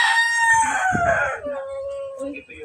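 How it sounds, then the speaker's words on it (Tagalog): A rooster crows loudly and close, a long drawn-out call that trails off, followed by quieter background noise. "Ay, ang ingay na ng Manok."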